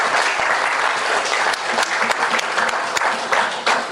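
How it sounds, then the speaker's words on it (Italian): An audience at a poetry prize ceremony gives loud, continuous applause as an honoured poet comes up, with a few sharper individual claps standing out in the dense crowd clapping. "un bel applauso."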